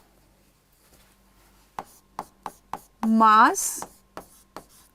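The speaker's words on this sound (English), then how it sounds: "I am just going to write the formula here." Tapping and scratching strokes from writing out a formula by hand, a series of short, sharp, close marks spaced across the moment, with a brief spoken word cutting in partway through.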